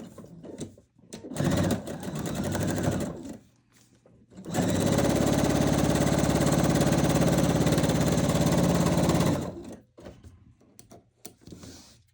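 Domestic sewing machine stitching quilt triangles, a short burst of running followed by a longer steady whirring run of about five seconds, loud and close with quiet pauses between.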